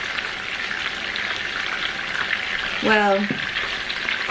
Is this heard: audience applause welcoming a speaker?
no